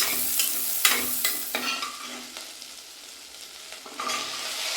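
Shallots with dried red and green chilies frying in oil, for carrot rice made in a pressure cooker; a spoon scrapes and knocks against the pan in several sharp strokes over a soft, steady sizzle.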